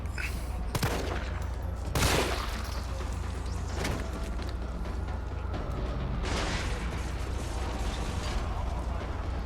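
Handgun fire in the Resident Evil 3 Remake video game: about four sharp, spaced shots ring out over a constant low droning hum.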